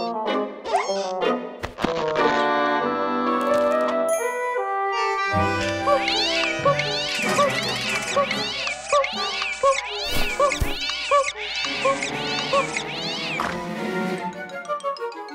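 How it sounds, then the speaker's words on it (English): Cartoon cat meows from a custom Swiss cuckoo clock, where a cat and mouse chase each other in place of a cuckoo bird. Loud, repeated meows and yowls arrive in quick succession amid bright chiming clock tones. "It's only our custom cuckoo clock, where instead of a cuckoo bird, a cat and a mouse chase each other."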